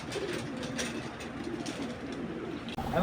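Racer pigeons, silver racers among them, coo and call in a loft amid steady background noise, their soft repeated calls continuing throughout.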